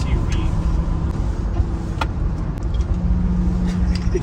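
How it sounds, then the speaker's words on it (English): Steady road and engine rumble from a Lexus LX SUV cruising smoothly, a constant low drone throughout with faint rattles and a few brief clicks, loud and close from inside the cabin; a voice speaks over it. "I feel like I'm driving an SUV"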